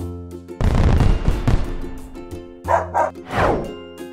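A dog gives a couple of quick barks, brief and fairly clear, set within a busy cartoon soundtrack with a thumping noise burst and background music.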